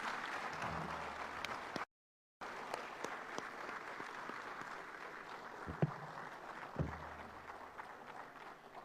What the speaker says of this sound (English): Let us all rise to give the Speaker and his entire delegation a round of applause